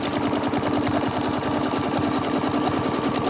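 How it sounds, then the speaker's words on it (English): A sewing machine stitches around a quilting template, running at speed with a rapid, regular mechanical chatter of needle strokes, loud and close throughout. "So we're going to stitch around our template."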